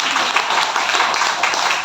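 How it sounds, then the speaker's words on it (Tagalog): Brief burst of steady, dense clapping from a small group, close and fairly loud, continuous for a couple of seconds. "Wala bang palakpak dyan?"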